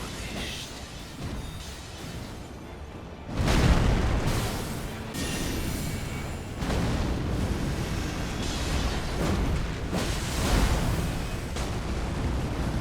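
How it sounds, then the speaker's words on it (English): A magma spell explosion in Elden Ring erupts with a deep roaring burst, followed by several more rumbling blasts and fiery crackle that fill the clip loudly and continuously. "The range is like quite alright with the explosion."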